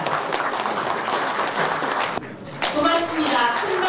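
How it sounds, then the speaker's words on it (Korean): Audience applause at a year-end newspaper gathering in a hall, steady dense clapping that briefly dips, then resumes with voices talking over it. "큰 박수 보내주십시오."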